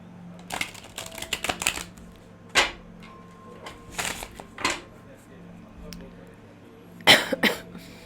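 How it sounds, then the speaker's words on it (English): Quiet, close coughs come in short bursts, a cluster of several followed by single coughs and a final pair, separated by pauses in a still indoor room. "Cough test."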